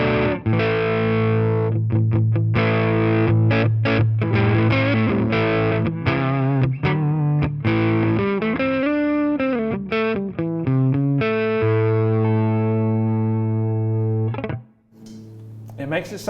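Distorted electric guitar played through the boost channel of a Line 6 Catalyst 200 amp, loud and close, with strummed chords and picked notes ringing out in a steady flowing passage before a brief pause near the end.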